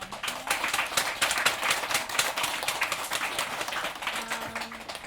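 An audience's round of applause for performers at an open mic night, a steady, moderately loud patter of many hands clapping that continues throughout with no speech.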